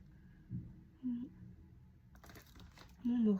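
Adhesive tape handled for scrapbooking, torn and pressed onto a 15x15 album page, giving faint, brief crinkles and clicks in a quiet room, with a few short low hums from a voice in between.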